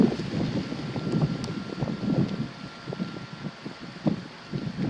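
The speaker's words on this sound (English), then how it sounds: "here comes a little bit of wind" Gusting wind rushes past outdoors on a frosty morning of around -5°C during a metal detecting outing, a steady broadband roar that swells and dips in uneven gusts with no voices.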